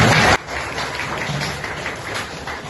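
Audience applause at a school competency pre-test event, a brief loud burst of clapping that quickly drops to a softer, scattered patter.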